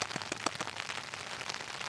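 Rain patters on a tarp stretched over a camping hammock, a dense, quiet spread of irregular drops with a few sharper taps standing out close by.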